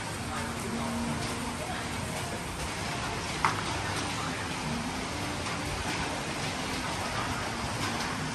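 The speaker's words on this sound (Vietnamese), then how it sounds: "Sáng hôm nay mà mưa kiểu như vậy nữa thì quá là đau xót luôn." Rain pours steadily outdoors on a stormy morning, a dense, even hiss that stays loud for the whole stretch, with one brief knock partway through and no talking.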